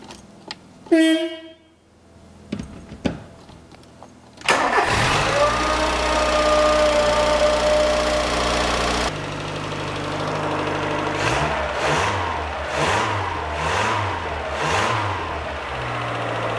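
A horn honks briefly, then a Volkswagen Polo II Coupé (86c) engine cranks and fires up after timing belt work, settling into a steady idle before revving up and down several times.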